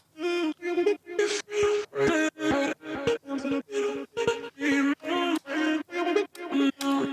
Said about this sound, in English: So this is 2 vocal samples from Splice that I've just chopped up.